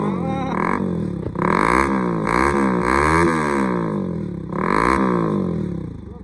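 A Bajaj Pulsar NS160 motorcycle with a newly fitted exhaust revs loud and close, the engine note climbing and falling in several repeated throttle blips over a steady idle.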